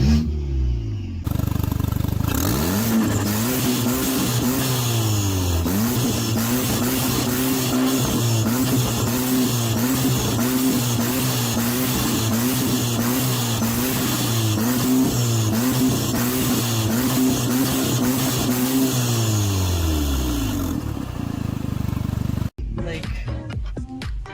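A B9 Audi A4 2.0T engine fitted in an older A4 runs steadily with a dense, continuous drone and a few small rises and falls in revs, loud and close throughout before cutting off near the end.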